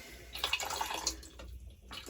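Water runs and splashes briefly through a newly connected refrigerator water line, a short close hiss with light dripping that fades after about a second and a half.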